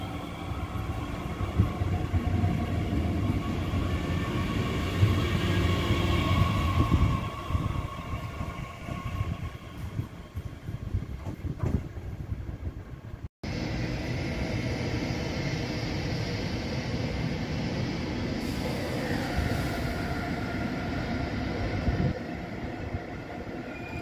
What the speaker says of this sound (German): ihr seht ja auf dem Zwischengleis 10 eine 101 mit 5 zweite Klasse Wagen fahren